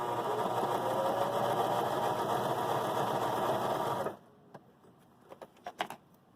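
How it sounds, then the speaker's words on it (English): A Baby Lock Joy sewing machine stitching a straight stitch at 2.5 length, a loud steady whirring hum for about four seconds that stops abruptly, followed by a few faint clicks and taps. "We put it under, put our foot down, and we sew"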